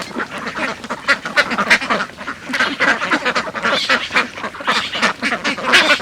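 A flock of domestic ducks on a farm quacks continuously and loudly, many overlapping nasal calls in a busy, dense chorus with no talking.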